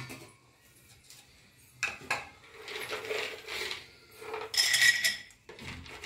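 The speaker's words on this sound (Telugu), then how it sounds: "పల్లీలని డ్రై రోస్ట్ చేస్తున్నాను." Peanuts dry roasting in a pan on low heat for curry leaves rice, with dry rattling and scraping as the nuts are stirred and tossed in bursts, fairly quiet and close with pauses between movements.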